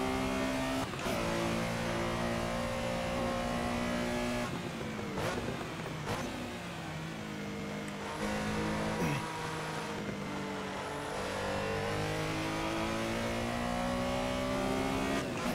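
Porsche Carrera engine in Assetto Corsa at Silverstone, revving steadily with harmonic engine tones rising and falling through gear changes, loud and continuous for the whole run with no talk.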